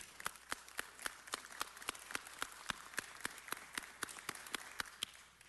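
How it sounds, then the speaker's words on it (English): At a city council meeting, applause comes across as evenly spaced, crisp claps in a steady rhythm, fairly faint and without voices. "Please give her a warm round of applause."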